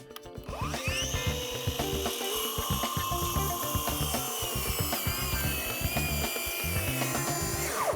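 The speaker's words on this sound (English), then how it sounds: "if you are trying to make bevel cuts with a track saw, it is a good practice to make a straight cut first, if you can." A Ryobi track saw makes a straight cut through wood. The motor whines loudly and steadily for about eight seconds, with a dense, rough cutting rasp close by and no voices.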